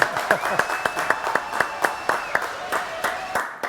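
Studio audience applause on a French comedy show, scattered hand claps with distinct sharp peaks over a steady tone, a voice talking over it throughout.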